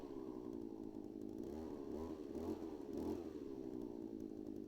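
A petrol grass trimmer, bought three years ago and repaired once, idles close by with a steady buzzing engine drone and slight rises in pitch, running alone without voices.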